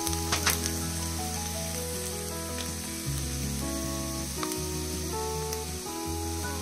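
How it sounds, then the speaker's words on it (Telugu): Onions sizzle and fry in a pan for Andhra-style pappu, a close, steady crackling hiss with a few sharper pops and a faint background hum. "ఎర్రగడ్డలు బాగా వేగుతున్నాయి"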